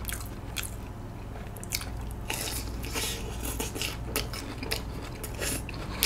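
Crisp crunching bites into the fried batter of a corn dog, several sharp crackles in quick irregular succession, close to the microphone.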